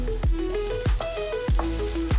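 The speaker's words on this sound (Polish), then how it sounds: "Wlewamy odrobinę oleju na patelnię i smażymy cebulę." Steady sizzle of onion frying in hot oil, with a few sharp clinks of a utensil against the pan at regular intervals.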